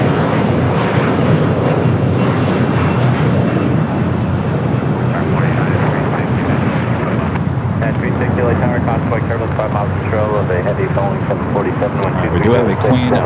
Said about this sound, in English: Cathay, the 777 at 300 ER coming up from Hong Kong.